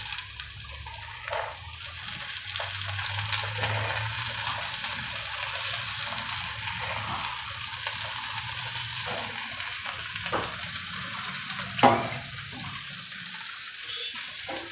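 Peanuts frying and being stirred in a pan for a Gujarati peanut curry, a continuous sizzle with scattered spoon scrapes and clicks and one louder knock near the end.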